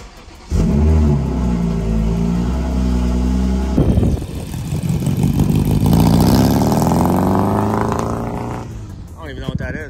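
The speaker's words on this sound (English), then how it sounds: "All right, cold start for the boys." A 2020+ MK5 Toyota Supra cold-starts at a local car meet: a loud steady idle gives way to a sharp revving flare, then settles into a high, loud idle that slowly drops, with voices talking over the engine.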